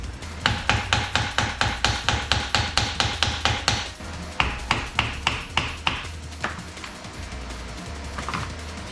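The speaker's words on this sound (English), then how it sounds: "I just grabbed this piece of wood to be able to hammer this in" Repeated hammer blows striking a wooden block to drive in a ball joint on a 2014 Ford Escape, a fast steady run of sharp knocks that pauses, then resumes in a slower, uneven series.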